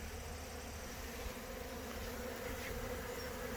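Honeybees robbing a hive swarm around a small entrance, producing a dense, continuous frenzied buzz that holds steady and close throughout.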